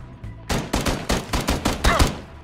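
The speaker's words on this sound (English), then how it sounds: "You kept shooting me" Rapid gunfire from a rifle in the battle royale shooter PUBG, roughly nine loud, sharp shots in an uneven burst after a brief quiet start, close and prominent with no talk over it.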